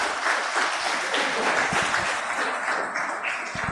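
An audience at a Spanish-language church sermon breaks into sustained applause, a dense, steady wash of clapping that fills the room without pause.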